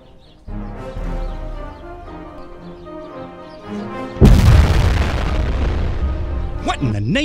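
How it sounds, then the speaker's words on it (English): Starship weapons fire and explosion in a Star Trek fan production, a sudden loud blast erupting midway over a sustained musical tone, with a voice speaking briefly near the start and whooshing effects at the end. "We're being fired on."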